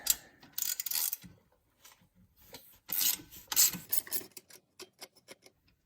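Someone works a ratchet while taking the bumper off an LTZ400 race quad, giving bursts of harsh raspy clicking followed by a run of quick sharp ticks. Short pauses separate the bursts, and the sound is close and fairly loud.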